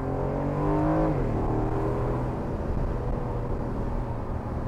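An Aston Martin Vantage F1 Edition engine revs high and then drops sharply on a gear change, settling into a rough, throaty roar as the car is driven hard, heard loud and close without talk.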